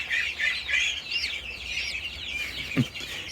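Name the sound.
bantam chicken clucking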